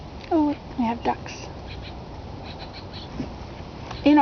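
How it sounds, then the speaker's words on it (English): A few short quacks from ducks on murky lake water, heard up close from a kayak, come in brief bursts at the start and again at the end, separated by quiet stretches. "Oh, we have ducks."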